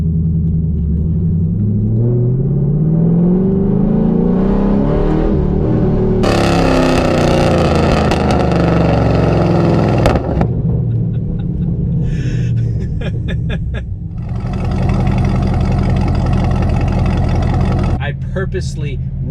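A fifth-generation Camaro with the V8 engine pulls away, its rumble rising in pitch through the gears and dropping between shifts. Wind and cabin noise follow, with a brief crackle near the end.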